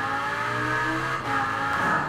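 A Lamborghini Huracán V10 engine revs in Forza Horizon 4, a loud, continuous, high-pitched engine wail that dips briefly and then climbs again, with no talk over it.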